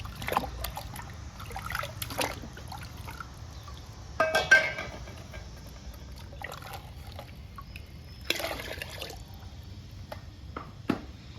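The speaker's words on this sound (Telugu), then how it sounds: "లిక్విడ్ని బాగా కలుపుకుందాము బాగా కలవాలండి లిక్విడ్ వాటర్లో" Soft trickling and sloshing as ridge gourd peel liquid is stirred into water in a bucket, with occasional splashy bursts and drips, close by and otherwise quiet.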